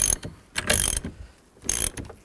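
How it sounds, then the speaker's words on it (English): Ratchet with a 21mm socket loosening the steering wheel nut on a 2003-07 GMC Yukon, a few close, loud clicking ratchet strokes separated by short pauses. "We're going to loosen this nut up. Use a 21mm socket and a ratchet."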